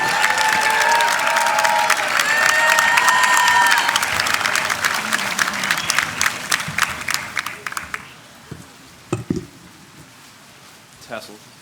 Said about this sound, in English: Join me in an enthusiastic round of applause for this year's student speaker, VJ Adipudi.